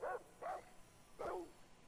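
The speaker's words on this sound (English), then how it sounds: "No, don't use that. That's a dog." Dog barking inside the first-person shooter Far Cry 3, three short loud barks spaced about half a second to a second apart, standing alone over a quiet game background.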